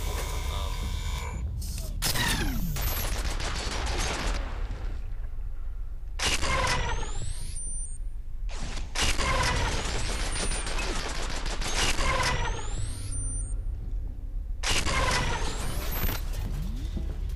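Ceiling turrets in the shooter F.E.A.R. deploy and fire, giving dense bursts of rapid automatic gunfire in several loud, long stretches broken by short pauses, with mechanical whines and clanks between them.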